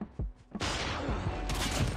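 Gunfire in the Call of Duty Mobile video game: a short shot, a pause, then a sustained loud burst of rapid fire with a sharp rise partway through, and no talk.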